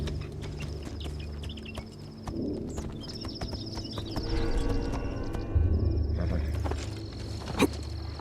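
Horse carrying a rider in a video game set on steep slopes, hooves clip-clopping at a walk amid ambient game sounds and wildlife, moderately close.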